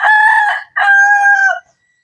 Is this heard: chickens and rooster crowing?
yes